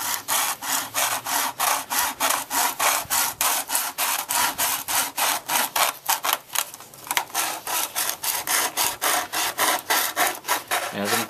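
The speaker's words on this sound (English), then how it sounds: "I'm turning the bottle a little bit after a few good saws." A hand saw cuts through a plastic bottle in quick, even back-and-forth strokes, close and loud, a rasping rhythm of about three strokes a second with a brief pause as the bottle is turned; no talking.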